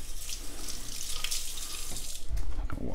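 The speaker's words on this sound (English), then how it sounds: "I'll wash my hand off a little bit." Tap water runs steadily from a faucet into a sink while a hand is rinsed under it, a continuous close splashing stream that shifts slightly as the hand moves, with no talking.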